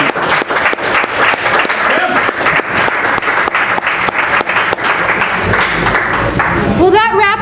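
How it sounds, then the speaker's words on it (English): Close, loud applause and clapping from a small live audience thanking ultrarunner Tim Freriks before the 2018 Western States 100, sharp individual claps over a crowd patter, with a voice breaking in at the very end. "Let's give Mr. Freriks a round of applause."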